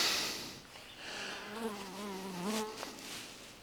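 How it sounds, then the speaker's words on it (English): A bee buzzes outdoors, its faint wavering hum rising and falling in pitch as it circles close by, with no talking. "Bee just flew around me like it's going nuts."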